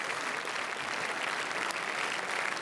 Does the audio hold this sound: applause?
yes